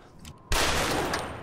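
Gunfire in the Yakuza Kiwami 2 video game: a sudden loud burst erupts midway and continues as dense, sustained shooting after a quieter lead-in.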